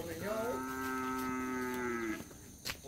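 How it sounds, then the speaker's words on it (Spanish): Cows in the countryside let out a single long, clear moo lasting about two seconds, fairly close and loud against quiet outdoor background. "Que hay vacas también aquí cerca."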